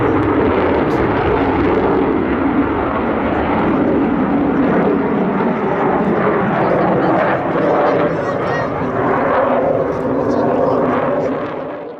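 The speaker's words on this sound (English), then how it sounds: "The Rafale is referred to as an omni-role aircraft by Dassault." Dassault Rafale fighter jet flying, a loud, steady roar of jet engine noise that fills the whole stretch without a break, with a voice talking over it.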